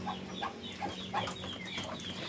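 Muscovy ducks kept as breeders on a farm make close, repeated soft clucking calls in short bursts, over a steady low hum of farmyard background.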